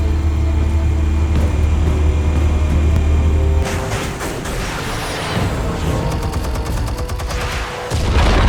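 Gunfire in Batman: Realm of Shadows erupts after a steady low rumble, a scattered volley of sharp shots and bursts over continuous background noise.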